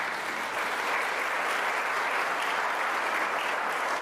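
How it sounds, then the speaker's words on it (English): An audience at a criminal defense conference in Tulsa, Oklahoma claps in a dense, sustained wash of applause that holds steady and loud for several seconds without pause. "You got to clap."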